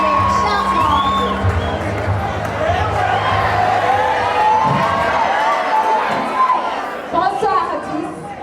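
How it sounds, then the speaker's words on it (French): A pageant audience applauds and cheers for a contestant, a dense crowd of clapping, whoops and chatter with a voice speaking over the top, loud and close, thinning toward the end. "Des applaudissements pour la Miss Tissu."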